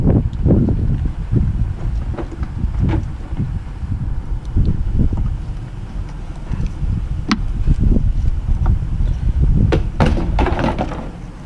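Strong outdoor wind buffeting the microphone during a 2008 Pontiac G6 headlight repair, heavy low rumbling gusts that rise and fall continuously, with occasional faint clicks and knocks of work underneath.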